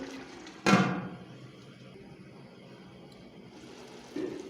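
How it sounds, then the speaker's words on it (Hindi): A lid is set down on a cooking pot of chicken pulao rice with one sharp, ringing clank. A quiet kitchen hum follows, then a softer knock near the end. "फिर से हम ढक्कन लगा लेंगे।"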